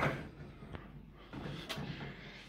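A metal drawer on an SGS 36-inch tool chest slides open with a quiet rolling rumble and a couple of light clicks and clunks, heard close in a workshop.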